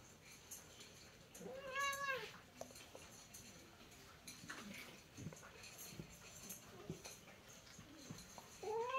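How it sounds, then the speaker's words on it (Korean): A cat meows once clearly while resisting being given medicine, then faint rustling and soft cries follow, with a brief meow rising again at the end; quiet indoor background. "익숙한 고양이가 아니라서 약 먹이고 그게 아주 쉽지가 않습니다. 분홍이는."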